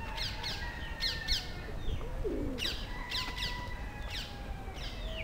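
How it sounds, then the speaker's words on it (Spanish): A green bird calls outdoors in Portugal, with a few sharp repeated chirps scattered across the clip over a constant hiss of background noise, at moderate distance. "Pájaro verde."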